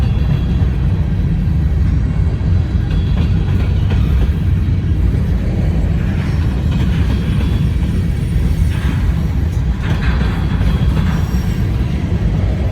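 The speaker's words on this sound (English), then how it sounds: "Finally, the end of the train. A couple tankers on the end." A long freight train rolls steadily past, ending with a couple of tanker cars, in a loud, continuous rumble of wheels and cars with faint squeals and no voices.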